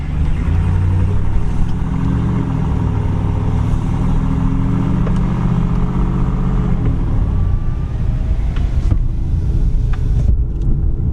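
Cab of a Ram 2500 pickup fitted with a Borla S-Type exhaust, windows down, engine idling as a steady low rumble that stays even throughout, with no talking.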